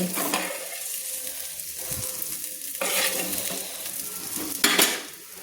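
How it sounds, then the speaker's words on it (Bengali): Fried eggplant being lifted from hot oil with a spoon while frying for a spring onion stalk chorchori, with steady sizzling under scraping spoon strokes and a couple of sharper clinks. "বেগুনগুলো আমি তুলে নিচ্ছি একটা চামচে"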